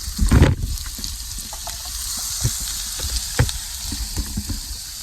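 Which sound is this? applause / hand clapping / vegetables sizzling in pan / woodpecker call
vegetables sizzling in pan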